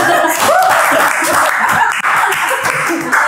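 Audience clapping for Josh during a Filipino radio podcast, a dense, steady patter of hands filling the space with scattered chuckles and voices mixed in.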